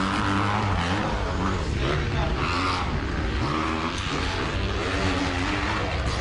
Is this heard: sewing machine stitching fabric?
no